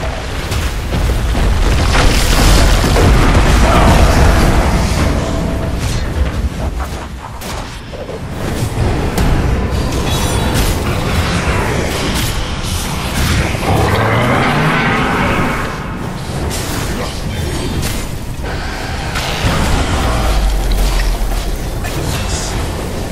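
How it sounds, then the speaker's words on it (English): A Dota 2 match with a tower under attack rumbles with repeated heavy booms and blasts, layered with whooshes and crackles in a loud, dense, continuous game soundscape that rises and falls in intensity. "Radiant's top tower is under attack."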